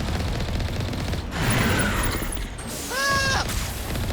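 Rapid bursts of gunfire from the Mass Effect video game crackle continuously, with sharp shots, a louder volley in the middle and a rising electronic whine near the end.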